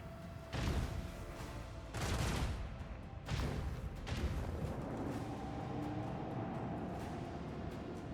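Ship weapons in the Warhammer 40k: Rogue Trader video game fire in heavy rumbling volleys, three loud booming bursts at roughly 0.5, 2 and 3.3 seconds over a continuous dense roar.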